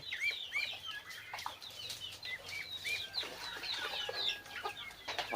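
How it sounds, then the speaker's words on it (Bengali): Free-range desi chickens cluck and chirp in a busy flock while wings flap in short bursts, moderately near and without talk. "এই যে দেশি মুরগিগুলা সব ছাড়া অবস্থায় আছে"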